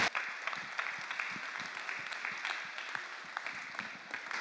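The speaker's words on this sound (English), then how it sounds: "So let's give them another big round of applause." Audience applause following a celebration of honorees at an event, a dense steady wash of many hands clapping at moderate loudness throughout, with no talking over it.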